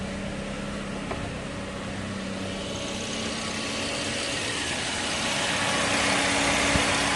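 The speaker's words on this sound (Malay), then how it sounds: "motor fan dia hidup" Car engine idling with the radiator's electric motor fan running, a steady even whir and hum that rises slightly toward the end, close by with no talk.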